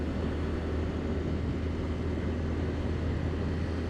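Honda DAX 100 motorcycle engine running while riding on a road trip, a steady loud drone with wind rumble and no break.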